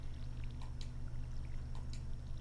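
Water pours steadily from a watering can onto crops in a farming video game, a soft continuous trickle with faint chimes over a low game hum.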